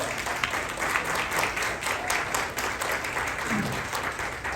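An audience at a leaders' training meeting in India breaks into sustained applause, dense steady clapping that fills the room at even loudness for the whole stretch, with a few faint voices mixed in.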